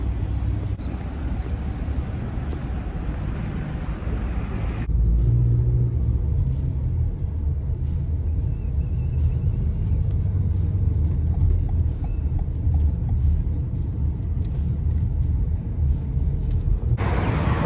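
A taxi travels through traffic, the interior filled with a steady low engine rumble and road noise, louder after a few seconds and continuing unbroken with faint background sounds.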